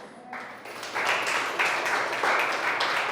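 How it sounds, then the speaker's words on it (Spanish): A church congregation breaks into broad applause, a dense wash of clapping that swells and holds with some cheering mixed in. "denle un aplauso a Dios por eso"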